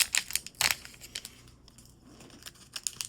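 A Magic: The Gathering collector booster pack is torn open with a few sharp ripping bursts and crinkling foil, followed by quieter rustling and handling, then more crinkles near the end.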